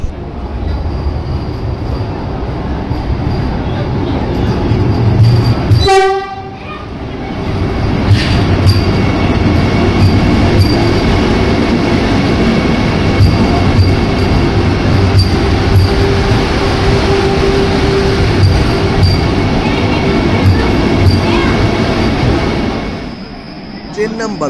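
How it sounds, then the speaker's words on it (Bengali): Train 12461, the Sabarmati Vande Bharat Express running from Jodhpur toward Abu Road, gives a loud steady rumble throughout, broken early by a short, sharp horn blast. "Train number 12461 Sabarmati Vande Bharat express, যেটা সপ্তাহের 6 দিন যোধপুর স্টেশন থেকে ছাড়ে।"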